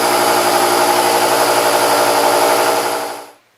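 Milling machine taking a finishing cut on a machinist vise part, a steady loud mechanical whir with a rhythmic low churn that runs continuously, then winds down and cuts off near the end.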